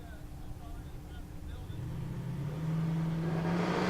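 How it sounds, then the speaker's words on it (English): At a drag racing event in Ennis, Texas, a Dodge Challenger race car with a Gen 3 Hemi engine drones from a distance, its engine rising in pitch and growing steadily louder as it comes closer. "The Challenger in the left lane, Gen 3 Hemi for power."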